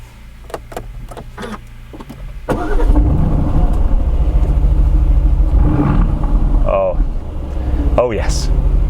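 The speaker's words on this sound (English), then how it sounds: "start this car and just have a listen to the engine" An Aston Martin Vantage starts up with a sharp crank and catch, then settles into a deep, close, steady idle with a few light blips, while a voice briefly speaks near the end.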